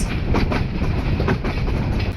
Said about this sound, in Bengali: বিমানবন্দর রেলওয়ে স্টেশন ছাড়ার পর বেশ ভালো পরিমাণ গতি নিয়ে ছুটে চলছিল আমাদের মোহনগঞ্জ এক্সপ্রেস